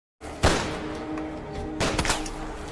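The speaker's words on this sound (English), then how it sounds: "After firing all the bullets in his gun, Carter then hides behind the building." Two loud, sharp gunshot blasts crack close by, each trailing off in a noisy echo.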